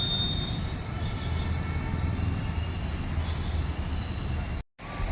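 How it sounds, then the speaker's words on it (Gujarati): A Nagpur metro train runs along an elevated track above a road and bridge, a steady loud rumble with a faint high whine, continuous before cutting off abruptly near the end. "નીચે રોડ, ઉપર બ્રિજ, ઉપર મેટ્રો જાય છે."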